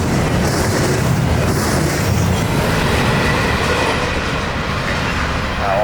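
A freight train passing at night in Florida, a loud steady rumble of wheels on rail with clickety-clack and faint squeal, close and continuous throughout.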